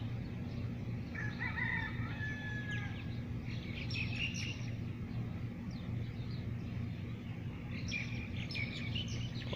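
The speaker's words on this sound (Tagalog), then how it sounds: "dami rin dito mga kalapati na wild" Wild pigeons and other birds calling in the distance over a constant low hum, with several chirping calls and a few longer warbling phrases coming and going.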